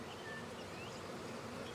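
Honeybees drone at an open beehive, a continuous, even buzz of many insects close by, soft in level with no other sounds on top.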